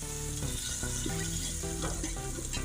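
Black partridge pieces frying in a pan for a roast, a dense continuous sizzle with crackling spatter, close and steady, with no voices.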